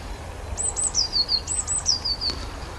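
A blue tit sings in two short bursts of high, thin notes and quick descending trills, close and clear over a low background rumble.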